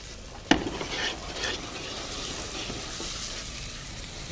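Flour being stirred into a roux of translucent onions in a pan makes a soft, steady sizzle, with a sharp utensil clank against the pan at the start and light scraping strokes throughout, close and moderately quiet.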